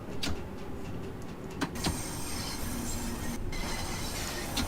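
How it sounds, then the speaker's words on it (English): Train rumble and mechanical whirring in Train Sim World 2, a steady, dense noise with a few sharp clicks and brief shifts in tone, near and moderately loud with no voices. "The sound effects on this train definitely need improvement."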